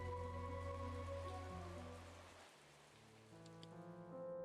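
Steady rain ambience from the video game Chained Echoes, a broad hiss layered under sustained musical tones that thins out midway and then returns.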